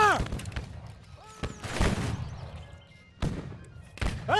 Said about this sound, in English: I'm only firing one volley at a time.